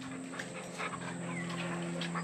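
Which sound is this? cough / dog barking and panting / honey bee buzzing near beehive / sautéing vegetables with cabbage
dog barking and panting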